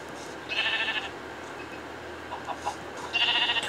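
Two short, bright bleats from a sheep in the video game Minecraft sound near and clear, one early and one at the end, with a quieter stretch of faint background between them.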